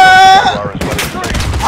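Gunfire in Call of Duty Modern Warfare (2019) during a combat mission: a shouted voice comes first, then a dense run of loud, close, overlapping shots and blasts.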